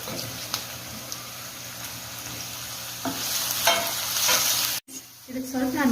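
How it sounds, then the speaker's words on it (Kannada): Cauliflower fries in a pan for pav bhaji while it is stirred and scraped. A continuous sizzle runs under the strokes and swells toward the end, then briefly cuts out. "ಈಗ ಗೋಬಿ ಹಾಕ್ತಾ ಇದ್ದೀನಿ."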